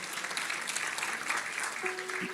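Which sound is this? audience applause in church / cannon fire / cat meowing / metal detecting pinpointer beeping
audience applause in church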